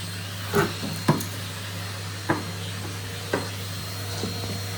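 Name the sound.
vacuum cleaner vacuuming behind furniture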